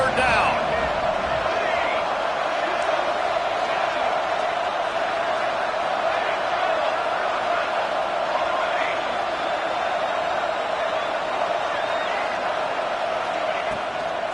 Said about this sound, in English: The Red Raider crowd rising to the occasion to help its defense on third down